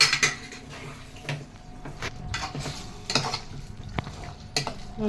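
Gongura curry stirred and mixed in a pot, close and fairly loud scraping and clanking of a spoon against the pot in repeated strokes, with faint sizzling underneath.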